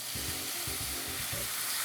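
A hot pan is deglazed with wine, giving a steady, close hissing sizzle with soft rhythmic stirring or scraping pulses underneath.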